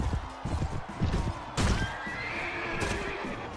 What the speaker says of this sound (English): I killed his horse.